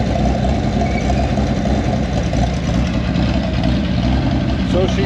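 An old car's engine idles steadily on its own, with a continuous low rumble and even throb that holds at a constant level throughout, close by.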